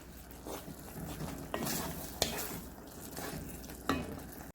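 A spoon stirs tomato sauce and water in a cooking pot, with soft bubbling and a few sharp scrapes and knocks against the pot, faint and close.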